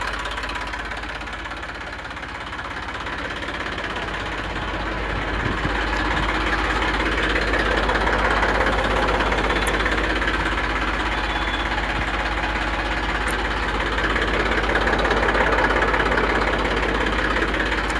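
An Eicher 380 tractor with a 42 hp engine idles close by, a loud steady low rumble with an even knocking throb that holds unchanged from start to finish.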